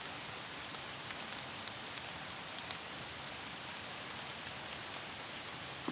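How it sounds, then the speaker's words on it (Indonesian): Steady outdoor rain hiss at a fishing spot, even and continuous throughout, with a few faint drops ticking near the surface; no voices. "Wah, turun hujan nih"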